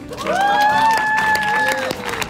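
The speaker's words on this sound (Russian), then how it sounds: "Дайте ему аплодисментов." A live audience at a comedy tabletop role-playing show bursts into applause and cheering, with one loud, sustained, tuneful shout riding over a close crowd roar for a couple of seconds.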